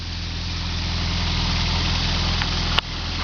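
A 1985 Volkswagen Jetta GL with a swapped-in ABA engine and built head idles steadily, a low, even rumble held at close range with a brief sharp tick near the end.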